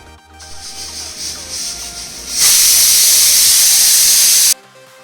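A pressure cooker of Mysore vegetable pulao lets out a loud, steady jet of steam hiss for about two seconds, then cuts off abruptly, after a quieter rubbing and hissing lead-in.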